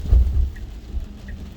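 Rain falling steadily on a Tesla Model 3 driving through a wet test loop in December, a low, continuous rumble and patter filling the cabin with no talking.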